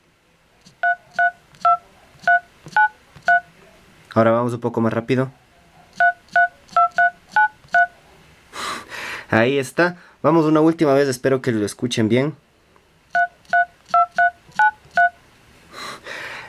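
Short bright keypad tones from a touchscreen smartphone, mimicking the Power Rangers communicator, beep in quick rhythmic bursts, several rounds of them, with someone speaking between the sequences.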